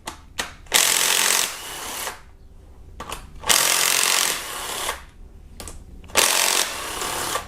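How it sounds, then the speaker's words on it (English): Power tool driving a 12mm socket to remove a camshaft cap on a Kia Optima engine during cylinder head removal, running in three loud, sustained bursts of about a second each, with brief pauses between. "we're going to start with the very left camshaft cap here with a 12mm socket"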